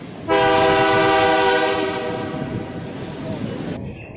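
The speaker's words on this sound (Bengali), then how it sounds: "ওই যে চ, ট্রেন চলে এসছে।" A train pulls into a station, its horn blaring loud and sustained with strong harmonic tones for several seconds over rumbling wheels, then cutting off as the rail noise continues.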